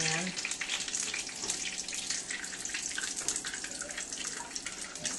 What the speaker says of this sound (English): And then you're going to rinse that with hot water. And you're going to add the water to the pan.